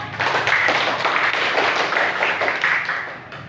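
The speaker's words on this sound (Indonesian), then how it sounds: "Tepuk tangan dulu untuk kelompok 3." Classroom applause for a student group after their presentation, a brief burst of many hands clapping together, close and lively, fading at the end.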